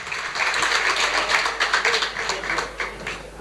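An audience at a hackathon event claps warmly in a dense, continuous burst of applause that holds steady throughout, with no talk over it.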